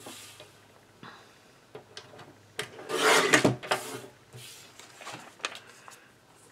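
Cardstock being trimmed for a handmade fall card, heard as soft rasping and rubbing cuts, mostly quiet with a louder burst of scraping in the middle, close by and without talk.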